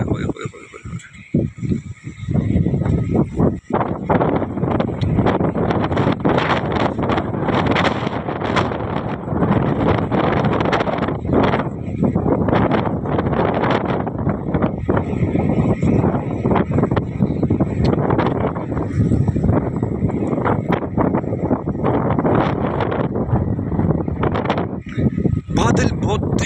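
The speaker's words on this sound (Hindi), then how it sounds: "हवा की शिद्दत बहुत तेज़ हो रही है, मज़ीद तेज़ हो रही है।" Strong, gusting wind roars across the microphone in rainy weather outdoors near hills, a loud continuous buffeting that persists throughout, with a voice talking over it.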